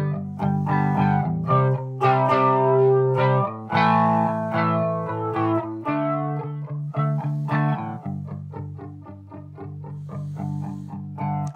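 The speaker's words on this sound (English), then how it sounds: "It does get crazy, it does that swooshy thing." Electric guitar run through a flanger effect pedal, clean muted strums and picked notes washed in a swooshy, jet-like sweep, steady and loud throughout with a slight thinning toward the end.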